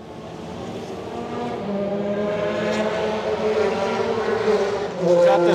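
A 1999 McLaren MP4/14 Formula 1 car from the grooved-tyre era runs at a track event, its high-revving engine a steady multi-toned drone that swells toward the end, close and fairly loud.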